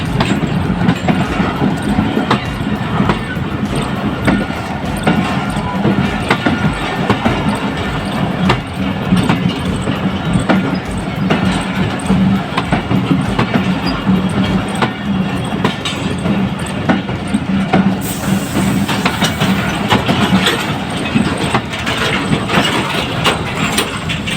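A Pakistani passenger train, the Peshawar-to-Quetta service, sits at Shikarpur railway station with a steady, loud diesel engine rumble and a dense, continuous mechanical drone lasting throughout, with no voices.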